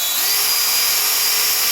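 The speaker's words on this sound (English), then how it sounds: "The second step is to take your drill with a wire brush." A power drill fitted with a wire brush scours a dirt bike's brake disc, giving a steady, loud, hissing whir that runs unbroken and close throughout, with no talking.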